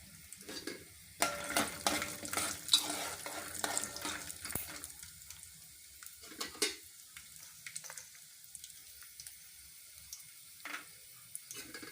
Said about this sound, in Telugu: నూనె వేడొచ్చిందండి ఎండుమిర్చి వేద్దాం తర్వాత పల్లీలు వేద్దామండి